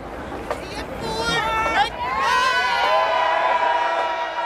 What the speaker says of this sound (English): There was some shouting of "See you at 4" and cheering as the Orange supporters passed the protesters.